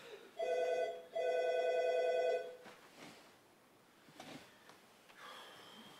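A telephone bell rings twice in quick electronic bursts, fairly faint in a quiet room, followed by soft rustling and breathing-like noises during a stage comedy performance.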